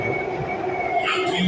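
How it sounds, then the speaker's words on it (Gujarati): Delhi Metro train arriving at the station toward Qutub Minar, a close rumble with tonal whine and a brief wheel squeal, with faint voices nearby. "આવી ગઈ છે મેટ્રો કુતુબ મિનાર જવા માટે"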